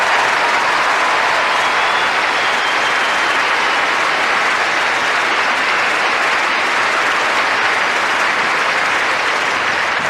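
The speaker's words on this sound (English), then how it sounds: "I think everyone should give Lindsay Davenport a great applause" A packed tennis stadium crowd at the 2005 Australian Open applauds Lindsay Davenport in a loud, dense, unbroken roar of clapping that holds steady throughout.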